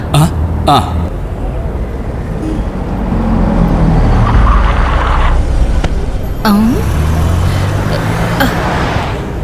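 A car engine rumbles low and steady as the car comes to a stop, with a brief swell in the middle and people talking over it.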